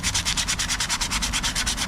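A car body is hand-rubbed with 400-grit abrasive paper in quick, steady back-and-forth strokes, a close, even scratching rhythm of about seven strokes per second with no talking.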